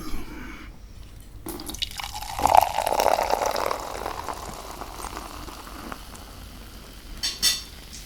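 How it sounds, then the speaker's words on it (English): Drink poured into a glass, a steady splashing, fizzing stream rising in the middle, followed by quieter dripping and a couple of brief clinks near the end; no talk. "let's pour this into the glass of doom"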